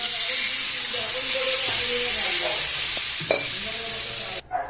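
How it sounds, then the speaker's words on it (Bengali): Water poured into fried spice paste for a thin chandni fish curry with potato and brinjal sets off a steady loud sizzle and hiss, with stirring scrapes, and ends abruptly in a brief quieter gap. "মশলাটা কষা হয়ে গেছে, আমি জল ঢেলে দিচ্ছি।"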